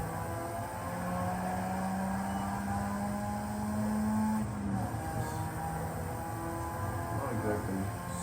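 A dragster in Forza Horizon 5 roars as it accelerates, a steady loud engine drone with a rising tone that climbs and then drops, continuous throughout with a voice talking over it.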